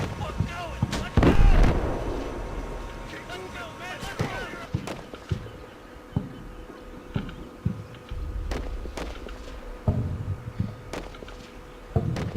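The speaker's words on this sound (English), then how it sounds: "Those spotting rounds are actually coming down" Mortar spotting rounds landing in the Combat Mission Shock Force battlefield game, a heavy close boom followed by scattered sharp cracks and distant thuds across a low background hum, with someone talking over much of it.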